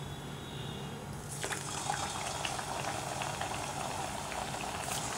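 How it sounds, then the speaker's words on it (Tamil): Badusha sweets deep-frying in hot oil over a low flame, a steady dense fizz and bubbling that starts suddenly after a quiet second and carries on close and continuous, with no talk. "இப்போ நல்லா கோல்டன் ப்ரௌனாக ஆகிற வரைக்கும் நம்ம வந்து ஃப்ரை பண்ணி எடுத்துடலாம்."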